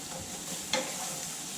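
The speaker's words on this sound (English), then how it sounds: "I add some garlic. We'll fresh fry the garlic" Fresh garlic drops into a hot wok, giving a single sharp sizzle that settles into a steady low frying hiss, up close with no speech.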